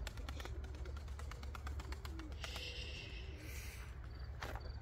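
Pigeons cooing in an outdoor loft among other birds, with steady low-pitched coos repeating under a constant hum of wings and background noise, fairly close and moderately loud.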